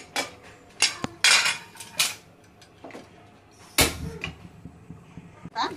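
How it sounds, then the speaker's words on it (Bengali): Meat being stirred in mustard oil in a cooking pot, with a series of loud metallic scrapes and clanks of a spoon against the pot, some sharp and close, separated by quieter gaps. "নেড়ে নেড়ে জাল দিলাম"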